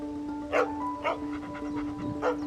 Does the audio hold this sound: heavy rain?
no